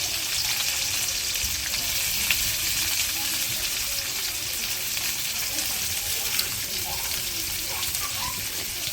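Spice paste sizzling and frying in hot oil in a pan with cinnamon and cardamom, a steady broad hiss running throughout at moderate level, with faint background sounds and no clear talk.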